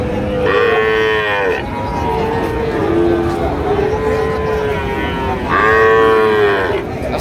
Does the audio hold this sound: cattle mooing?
yes